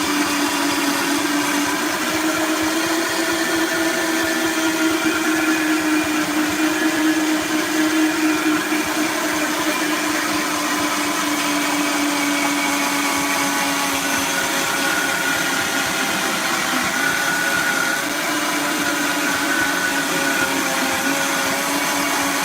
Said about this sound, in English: let me blend this a little more. I want you to see how creamy you can get out of the Vitamix